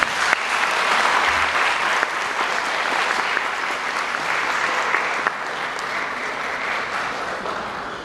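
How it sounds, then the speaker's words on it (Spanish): At a law school conference on organ donation and brain death, an audience applauds the speaker with loud, dense, continuous clapping that holds steady for several seconds. "brindemos al doctor Arturo Zapata Avellaneda fuertes aplausos"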